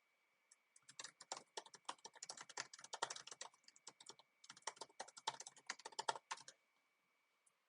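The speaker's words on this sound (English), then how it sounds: "I can select a reason, and I can also type some more information." Typing on a computer keyboard, two bursts of rapid, soft, close key taps separated by a short pause, quiet with a faint steady background tone.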